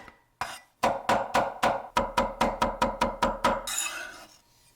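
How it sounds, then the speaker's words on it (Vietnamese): Garlic is minced with a knife on a cutting board, a steady series of about a dozen loud, evenly spaced chops close by, ending in a short scraping sweep. "Mình băm tỏi nhỏ ra ha các bạn."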